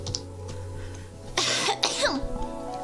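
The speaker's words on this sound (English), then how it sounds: "Sorry for coughing." A single harsh cough bursts out close to the microphone, followed by a second shorter cough and some throat clearing, over a low steady background hum.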